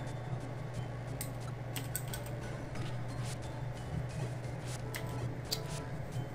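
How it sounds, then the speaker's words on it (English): Rapid computer keyboard typing clatters in quick irregular bursts, close and fairly distinct over a steady low background hum, with no talking. "I'm sorry that my keyboard is loud"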